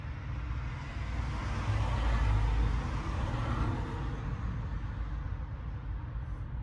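A car drives past a roadside license plate camera, its engine and tire noise swelling to a peak midway and then fading, moderately faint with no talking.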